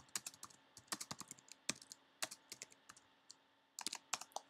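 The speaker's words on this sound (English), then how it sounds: "I'm going to type some text on top of the button." Typing on a computer keyboard while setting up a simple app interface, with fast irregular bursts of sharp key clicks, brief pauses between runs, close and clear with no talking.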